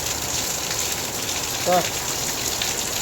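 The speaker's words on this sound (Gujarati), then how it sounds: "જોરદાર વરસાદ ચાલુ છે" Heavy monsoon rain pours steadily during flooding in Surat, a dense continuous hiss with a brief louder burst partway through and a voice audible faintly in the background.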